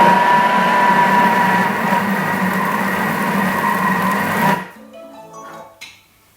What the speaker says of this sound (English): now we're going to mix it for a few seconds